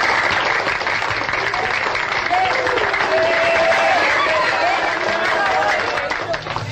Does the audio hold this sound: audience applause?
yes